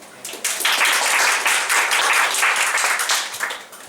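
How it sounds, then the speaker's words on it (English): A comedy talk-night audience breaks into applause, swelling quickly into a dense, fairly close wash of clapping that holds steady and then begins to thin out. "Round of applause for Steve, please."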